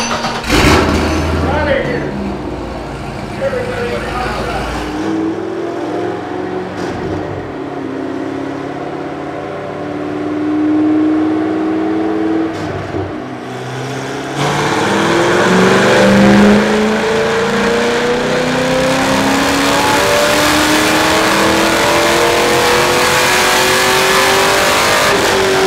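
A car engine revs hard on a dyno at a technical college open house, climbing through rising gear-like sweeps into a loud sustained roar, with people talking over the steady engine noise.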